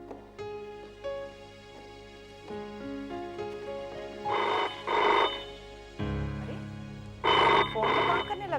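A telephone rings in repeated double bursts, fairly loud and clear, with a faint musical background underneath.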